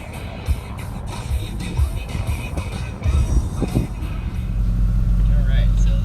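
A 2010 BMW 328i with a 240-horsepower inline six launching under launch control, its engine building from a rumbling idle to a loud, sustained roar up close.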